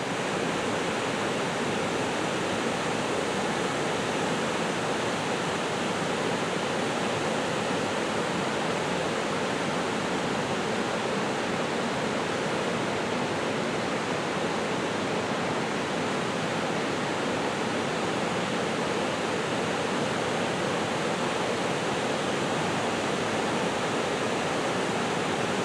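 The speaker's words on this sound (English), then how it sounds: "Here is a video of the raging falls as viewed from the west side of the Snake River from just above the Broadway Bridge." The raging waterfall of Idaho Falls on the Snake River, seen from the west bank just above the Broadway Bridge, roars as a loud, unbroken broadband rush that stays steady throughout, with no voices.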